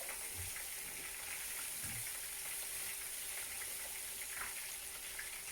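A pork cutlet in sourdough starter batter deep-fries in hot oil, giving a steady, even sizzle and bubbling throughout, moderately faint with no talking.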